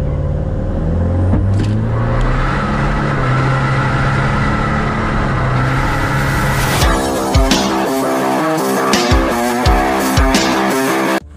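A Toyota Fortuner diesel launches at a drag race, its engine building into a loud roar with rising revs and harmonic bands, then a sharp drop and choppy bursts of rumbling engine noise from nearby cars.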